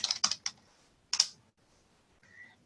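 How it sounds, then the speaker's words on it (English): Quick, close keystrokes on a computer keyboard as a search phrase is typed: a short run of sharp clicks, a pause, another brief cluster, then near silence with a faint tone at the end. "Right here, I type in Cricut Felt Wreath."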